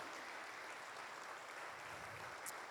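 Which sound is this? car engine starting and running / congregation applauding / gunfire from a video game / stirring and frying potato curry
congregation applauding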